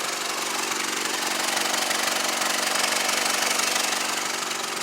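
A car engine fitted with a boost controller roars steadily under load during a test pull, a dense, continuous, loud drone with a faint rhythmic pulse and no pauses.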